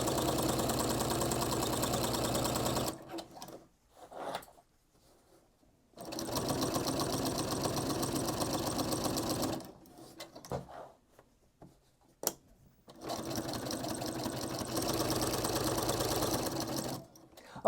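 A sewing machine stitches a reversible table runner in three long, steady runs of close, even mechanical whirring, broken by quiet pauses with a few small clicks and handling noises.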